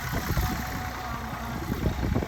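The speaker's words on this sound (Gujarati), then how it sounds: "જો હાલે હે ટ્રેક્ટર" A tractor engine drones steadily nearby while ploughing a field with a tine cultivator, a low, rumbling idle-like hum with slight fluctuations and no voices.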